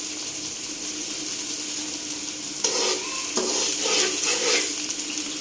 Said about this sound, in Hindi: ये फ्राई हो रही हैं भिंडियाँ।